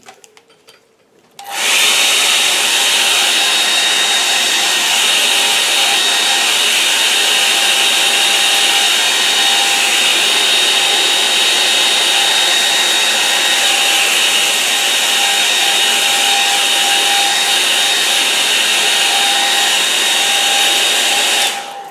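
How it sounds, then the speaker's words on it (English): A hair dryer drying paint switches on after a brief quiet start and then blows at a steady, loud, close whine for the rest of the span, with no talk. "Hairdryer."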